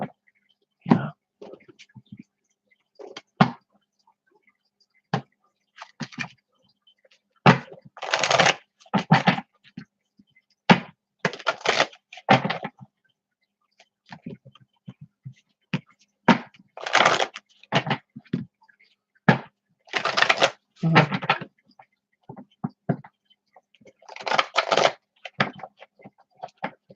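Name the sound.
shuffling tarot cards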